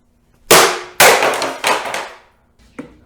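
A broken speaker is smashed apart in three loud, heavy cracking impacts about half a second apart, each ringing out briefly, followed by a smaller knock, close by and with no talking.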